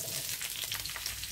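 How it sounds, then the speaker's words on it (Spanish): Peppers frying in a shallow layer of oil in a pan, with a steady, close, continuous sizzle and crackle throughout and no talking. "para ir friendo los pimientos"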